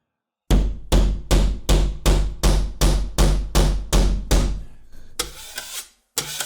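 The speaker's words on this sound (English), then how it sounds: "But you can use this one with a metal tip like I've got here as a hammer." The metal tip of a drywall knife hammers hard about a dozen times in a steady rhythm, each strike loud and ringing briefly, followed by a few scraping, rattling knocks.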